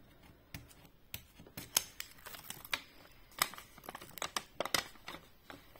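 Scissors snip through a strip of material in a quiet room, a close series of sharp, irregular clicks and cuts, some louder than others, with no voice heard.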